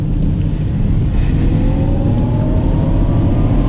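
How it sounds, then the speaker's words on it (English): 2019 Jaguar I-Pace electric car accelerating, a steady loud low hum with a synthetic tone rising gradually in pitch beneath cabin road noise, heard from inside without talking. "It does make a cool sound when you accelerate."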